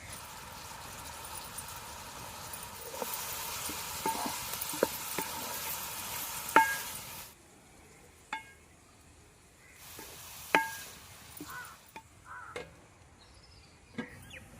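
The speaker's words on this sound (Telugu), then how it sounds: "ఈ ఉల్లిపాయ ముక్కలు పది నిమిషాల పాటు మగ్గనివ్వాలి" Onion pieces sautéing in a pan for a tamarind fish curry, giving a soft steady sizzle that drops away midway, with scattered spoon or utensil clinks and taps throughout.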